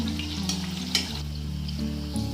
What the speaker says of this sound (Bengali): এইভাবে সবগুলো আমি লাল লাল করে ভেজে নেব